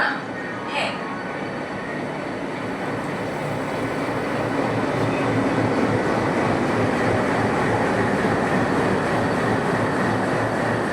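A Howrah–Panskura local train pulling out at night and running, a loud continuous rumble and rolling roar of wheels on track that builds slightly, with a brief high squeal near the start.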